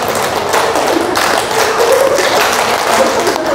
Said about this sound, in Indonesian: Tepuk 1, tepuk 1, tepuk 2, tepuk 2, tepuk 3, tepuk 3, tepuk 5 dikali 2.